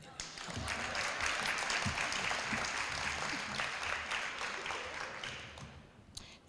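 An audience claps at an educator of the year banquet, a dense rolling wave of hands that swells quickly, holds for several seconds, then thins and fades toward the end.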